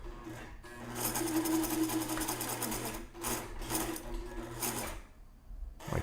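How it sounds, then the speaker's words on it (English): A sewing machine runs in steady close bursts as it stitches across a muslin hat strap, its rapid mechanical whir stopping and restarting several times. "So yeah, I cut it and I'm gonna sew it across one more time."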